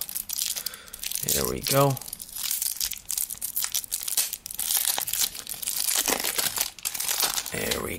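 Wyvern card game packaging being torn and dug open by hand, crinkling and crackling in bursts with a short tearing rip, while a person talks over it.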